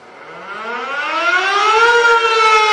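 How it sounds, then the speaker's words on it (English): A diaphone siren winds up from a low growl into a loud, steady, rising tone that swells over nearly three seconds, heard alone with no voices. "First is the diaphone."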